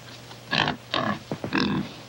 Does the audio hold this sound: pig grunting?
yes